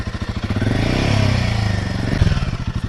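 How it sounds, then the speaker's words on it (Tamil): A Royal Enfield Himalayan 450 with its stock engine runs nearby, its steady pulsing thump swelling into a short rev and then settling back, with no voices over it. "இன்ஜினோட ஸ்டாக் சவுண்ட் எப்படி இருக்குன்ட்டு ஒரு வாட்டி கேட்கலாம்."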